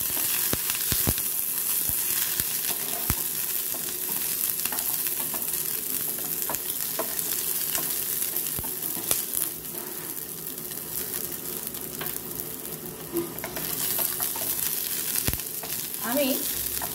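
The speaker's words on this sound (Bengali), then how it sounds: "এবার এই তেলের মধ্যেই আমি রসুনগুলোকে দিয়ে দিচ্ছি। আর টমেটোটাও আমি দিয়ে দিলাম।" Garlic cloves and tomato frying in hot oil, a continuous close sizzle with crackles and occasional stirring clatter throughout, no talking.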